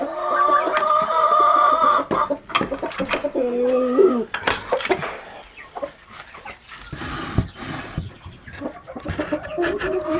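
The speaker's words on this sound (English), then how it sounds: "Let the chickens out." Farm chickens clucking and squawking as they are let out in the morning: loud, close, uneven bursts of calls with some drawn-out cries, mixed with rustling and handling noises.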